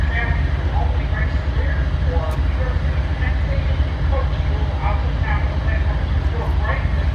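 An eastbound Amtrak Maple Leaf passenger train approaches in western New York, a steady low rumble in the distance that holds at an even level with no clear horn.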